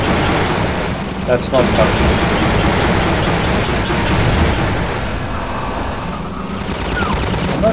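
Rapid gunfire aimed at the player in Half-Life 2, a dense sustained barrage of shots and bursts running the whole time, loud and close, with a brief spoken remark over it.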